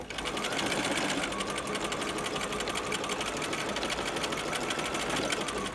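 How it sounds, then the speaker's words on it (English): A sewing machine running steadily at a standard 2.5 stitch, sewing along a basting thread on layers of tulle. It is a close, continuous fast whirring and clatter that stays loud and unbroken, with no talk. "what you will do is you will sew following the thread basting"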